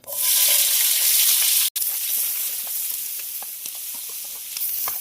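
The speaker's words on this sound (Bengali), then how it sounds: "ওই তেলের মধ্যে পেঁয়াজ আর ক্যাপসিকামটা ভেজে নেব।" Onion and capsicum fry in hot oil with a loud, steady broadband sizzle that briefly cuts out, then continues more softly with faint stirring clicks.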